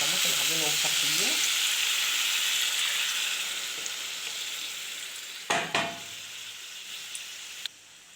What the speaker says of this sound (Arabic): ننزل عليها كده بشويه عصير طماطم عاملينهم مصفيين